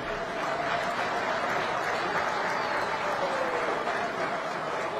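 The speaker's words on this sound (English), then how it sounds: "A round of applause, ladies and gentlemen." An audience at a heads-of-state summit applauds steadily, a dense, even wash of clapping that holds at a moderate, somewhat distant level throughout.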